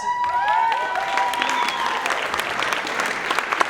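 An audience at a 2023 spring choir concert applauds steadily, with dense, continuous clapping from a crowd throughout and no distinct voices.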